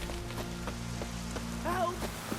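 Rain falling in The Witcher 3: Wild Hunt, a soft steady patter over a low droning in-game hum, with scattered drip-like taps and a brief voice-like sound near the end.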